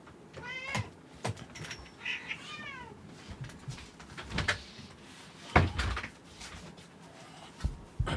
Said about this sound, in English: What's up, cat? I know. You want to get out?